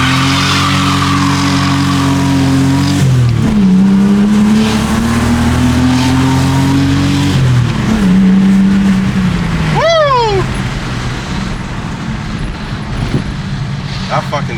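A lowered Ford Falcon accelerates hard at full throttle, its loud engine note climbing through two gear changes before the revs drop sharply at the end.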